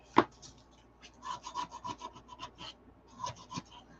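A nail file rasps against a small craft piece in short, uneven scraping strokes, close and fairly quiet, with brief pauses between bursts and a sharper tap near the start.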